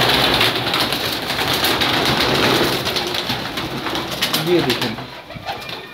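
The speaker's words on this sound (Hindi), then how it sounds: "एक कबूतर आपको और दिखाते हैं" A pigeon coos among other birds, close and fairly loud, while someone talks over it for most of the time.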